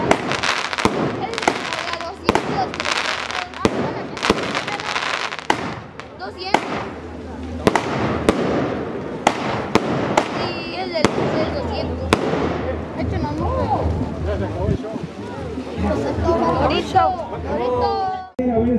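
Torito fireworks burst at an outdoor Easter Resurrection Mass fiesta in Los Fierros, Guanajuato, with sharp crackling bangs repeating in rapid irregular bursts over crowd chatter and children's voices.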